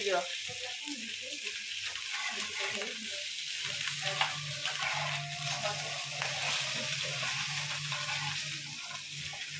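Fish frying in hot oil in a kadai, heard as a steady close sizzle and crackle with a low hum underneath and occasional faint movement.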